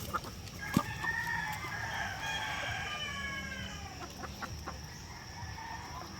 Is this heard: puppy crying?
no